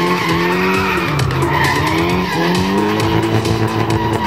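A drift car slides through a Latvian Drift Series round, loud sustained tire squeal over a roaring, shifting engine note, close and continuous throughout.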